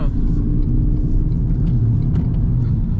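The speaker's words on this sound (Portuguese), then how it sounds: "vamos trocar aqui já pro modo Power. Vamos dar uma aceleradinha aqui" A 2024 Toyota Corolla Altis Premium Hybrid in Power mode gives a loud, dense engine and road rumble from inside the cabin, steady with small rattles throughout.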